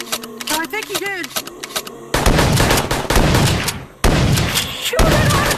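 In the video game Animals VS Zombies, rapid loud bursts of gunfire crackle in dense volleys, broken by brief pauses, following a stretch of animated voices talking.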